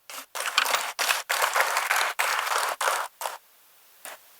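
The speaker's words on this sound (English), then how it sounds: "Let us welcome her with a huge round of applause." Applause from an audience greeting a keynote speaker at a university talk, delivered in several loud bursts with short gaps, then thinning to a few last claps before falling quiet.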